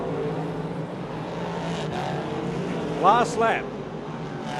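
Dirt speedway race cars roar around the track, a steady broad engine drone with a couple of louder tire or engine bursts late on, while a commentator talks over it.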